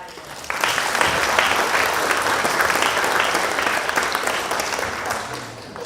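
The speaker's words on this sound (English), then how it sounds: "please join me in giving them a round of applause" An audience at a first-generation family orientation Q&A session claps steadily, with dense, sustained applause that starts abruptly and fades slightly toward the end.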